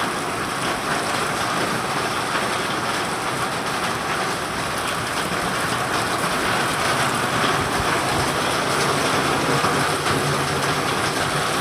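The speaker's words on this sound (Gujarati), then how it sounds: "વરસાદે ગજબનો ચાલુ થઈ ગયો" Steady, dense rain hisses without a break, a broad continuous wash of noise that stays loud throughout with no voices.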